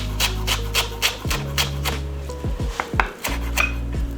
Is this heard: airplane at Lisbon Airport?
no